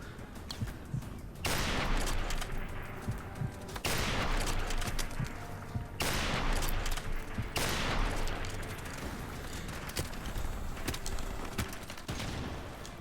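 Light machine gun fire from Call of Duty Modern Warfare Remastered comes in loud, sustained bursts, with four or five long rattling volleys separated by brief pauses.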